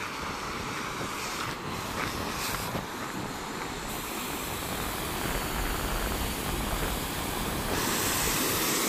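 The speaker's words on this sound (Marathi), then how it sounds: "पूर्ण डॅम भरल्याने म्हणून मित्रांनो हे पाणी वाहायला लागले." Water from the full Padale Dam pours over the spillway in a continuous dense rushing roar, broadband and steady throughout, close and loud with no voices.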